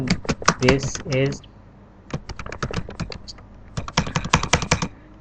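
Rapid bursts of computer keyboard typing while HTML code is written, close and clear, with short pauses between flurries of keystrokes and a brief stretch of clicking near the start.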